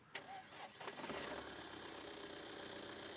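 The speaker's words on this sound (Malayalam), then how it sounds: "ഇതാണ് നമ്മുടെ സഫാരിയുടെ എഞ്ചിൻ്റെ സൗണ്ട്" A Tata Safari Storme diesel engine cranks and fires up, then settles into a steady, rough clattering idle heard close and continuous for a few seconds.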